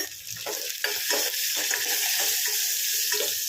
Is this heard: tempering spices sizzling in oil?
yes